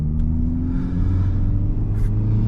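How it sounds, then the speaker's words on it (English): A Honda Civic Type R FL5 engine warming up, a steady low idle rumble with slight fluctuations, heard close and alone without talk. "All right, we're gonna let the car warm up here"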